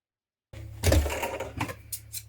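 Sewing machine stitching the sides of a jacket collar, right sides together, with a steady low motor hum running through and a few brief handling clicks near the end.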